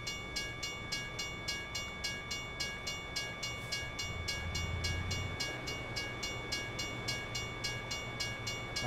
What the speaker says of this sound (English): The train coming.